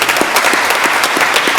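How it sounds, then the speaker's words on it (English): A room gives a round of applause for a county delegation at a commissioners court meeting, brief steady clapping from many hands, loud and close. "So let's give all these gentlemen a round of applause for the hard work they did."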